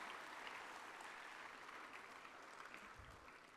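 Sustained audience applause fills a university award ceremony hall, steady and dense throughout, with no speech over it.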